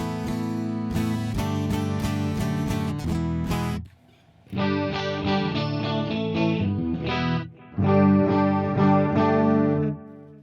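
Electric guitar on the neck pickup with a warm, rounded tone plays chords and short phrases, pausing briefly between passages, close and fairly loud.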